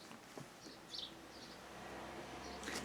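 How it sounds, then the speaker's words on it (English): A few faint, brief bird chirps ring out at a distance over a quiet outdoor hum. "Can you hear the birds chirping?"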